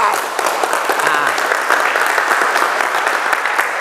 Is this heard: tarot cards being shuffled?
no